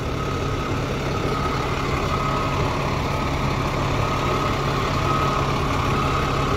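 A tractor-trailer truck engine runs at a low, steady rumble while the rig is backed up, a constant heavy idle-like drone close by with no pauses.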